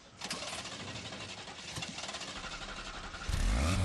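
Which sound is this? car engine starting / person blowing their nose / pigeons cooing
car engine starting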